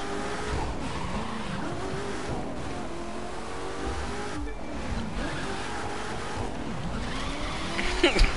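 A car in a racing video game drives at speed, its engine droning continuously while tires skid and squeal repeatedly, with a sharper burst of noise near the end.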